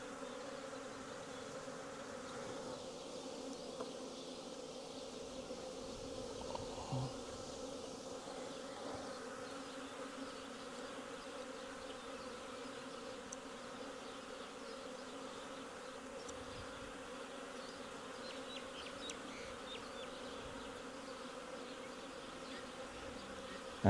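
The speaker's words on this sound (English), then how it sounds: "there's still wasps flying around by the looks of it." Wasps buzz steadily around beehives for over twenty seconds, a faint continuous insect drone with individual passes drifting nearer and farther, no voices.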